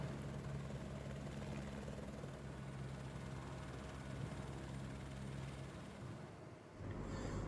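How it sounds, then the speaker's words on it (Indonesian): An evacuation helicopter drones steadily at a distance, its engine and rotor noise holding at a moderate level before briefly dipping and then swelling again. "Proses evakuasi pun harus dilakukan dengan menggunakan helikopter."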